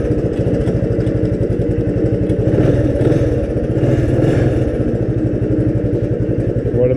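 Small three-wheeler engine running right after a pull start, a loud close rapid chugging idle with steady mechanical clatter, unbroken throughout.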